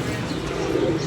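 A pigeon coos briefly and close by, a soft low burble set against a background murmur.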